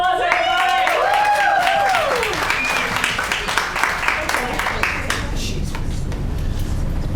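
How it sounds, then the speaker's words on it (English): Conference audience at a career talk breaks into loud, sustained applause, dense clapping continuing throughout with fading music tones and a voice at the start. "Let's give a round of applause, everybody."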